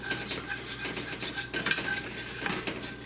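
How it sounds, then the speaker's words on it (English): Utensil scraping the bottom of a pan while deglazing for a pot roast, a close, continuous rough rubbing and grating with rhythmic strokes, alone without talk. "You want to get all that stuff scraped off the bottom"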